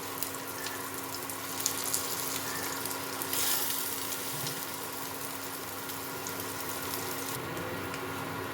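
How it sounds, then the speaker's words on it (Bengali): Paneer thecha frying in a pan, a steady low sizzle running throughout with faint clinks of handling, no voices. "এক সাইডটা ফ্রাই হয়ে গেছে, এবার আমি এটাকে উল্টে দেবো এভাবে, যাতে এই সাইডগুলো ভালো মতো ভাজা হয়ে যায়।"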